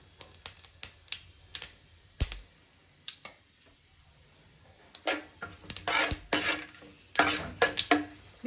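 Whole pulao spices are dropped into hot oil and stirred, giving irregular clinks and scrapes of a spoon against the pan. The clinks come sparse at first, then busier, over a faint, steady sizzle.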